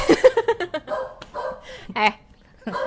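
Several sharp, close dog barks come in a quick burst at the start, with more barks spaced through the rest, mixed with a person speaking nearby.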